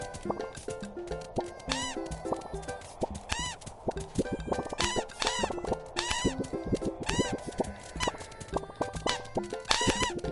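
Repeated honking bird calls from a Dream Daddy video game mini game, sounding in quick rhythmic bursts over a busy, bouncy game music track with no talk.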